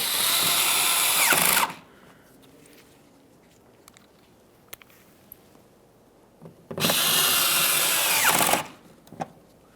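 Power tool driving bolts into a Ford Fusion during rear parking sensor replacement, heard as two loud whirring bursts near the start and again around the seven-second mark, with a quiet gap between.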